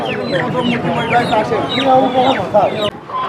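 Chickens, including broilers, in a poultry shop give busy overlapping clucks and squawks, close and loud, with voices mixed into the clamour.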